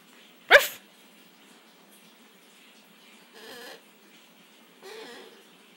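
A cockapoo dog gives one sharp, loud bark near the start, then the room falls quiet, with two softer muffled rustles or thumps afterward.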